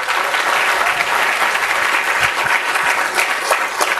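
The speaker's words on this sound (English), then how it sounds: "Round of applause." A conference audience breaks into loud, dense applause, many hands clapping steadily and close for several seconds, with a few sharper claps standing out near the end.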